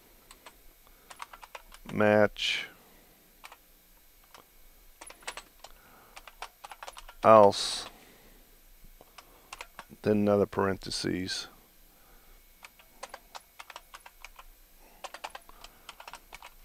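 Soft keyboard typing ticks along steadily in the background while someone speaks in three short bursts, with quiet clicking between phrases.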